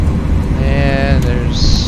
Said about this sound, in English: So we need to get reversers in, full reverse.